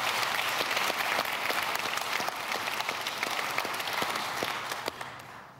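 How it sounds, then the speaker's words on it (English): Conference audience at a digital innovation panel claps for the speakers, a dense, steady round of applause from a sizeable crowd that holds throughout and tapers slightly at the end. "I again invite all of you to give all of our speakers a round of applause for their tremendous presentations today."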